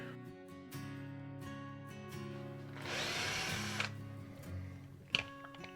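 A power drill whirs in short bursts, with one longer run in the middle, quiet and close, amid light clicking and handling noises, while fitting an outlet kit inside a gun safe.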